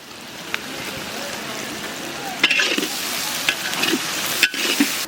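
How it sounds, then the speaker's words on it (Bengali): Onions fry in oil with whole cumin seeds, bay leaf and salt, giving a close, continuous sizzle broken by scraping stirs and clanks of a spatula against the pan. "পেঁয়াজটাকে সুন্দরভাবে ভেজে নেওয়ার জন্য দিয়ে দেবো স্বাদ মতো লবণ"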